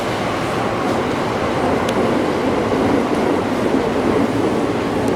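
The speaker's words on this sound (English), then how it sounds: "You can hear the sound of other trains at Kamakura station." Steady rumble of trains at Kamakura station on the Enoshima line, a continuous broadband rolling drone with faint clicks, loud and constant throughout with no talking.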